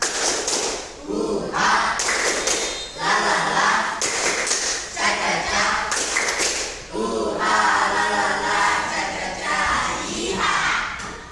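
A classroom group of fourth-grade children performs a rhythmic spirit clap, loud, close bursts of clapping and stomping in repeated patterns, interspersed with group chanting and shouts.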